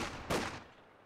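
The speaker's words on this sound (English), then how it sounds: "good firing line there from the conscripts" Soviet conscripts' rifle volley in the Company of Heroes 2 strategy game, a single sharp burst of gunfire that decays quickly, loud and close.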